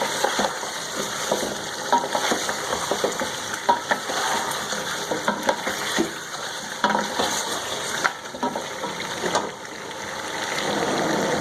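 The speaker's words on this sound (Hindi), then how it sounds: "अभी ये पायों को हम अच्छे तरीके से थोड़ा सा घी में भून लेंगे" Beef trotters fry in ghee for beef paya with a continuous, fairly loud sizzle, with frequent short scraping and stirring sounds throughout.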